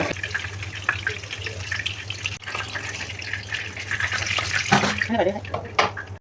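Fish frying in hot oil in a pan, a close, continuous sizzle with stirring clatter, swelling louder toward the end where a few brief sharper sounds break through.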